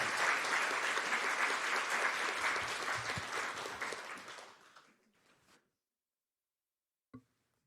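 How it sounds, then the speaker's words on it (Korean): A church congregation at a special dawn prayer service during Holy Week applauds to welcome a pastor; loud, dense clapping for about four seconds, then fading away into silence, with one faint thump after. "그런 큰 박수로 환영합니다."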